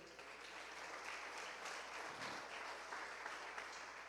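Steady applause from a church congregation at a sermon, a dense even wash of many hands clapping that holds without letup for several seconds, fairly distant and filling the room.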